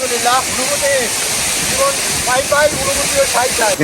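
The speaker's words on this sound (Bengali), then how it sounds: "এই যে আমাদের পিছনে ঝর্ণাটি রয়েছে" A steady broadband rush of falling water from Khoiyachora waterfall in Mirsharai fills the scene, with voices talking intermittently over the constant roar.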